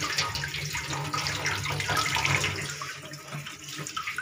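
Tap water runs continuously into a kitchen sink while something is rinsed to wash off soil, with splashing and small knocks nearby and no talking.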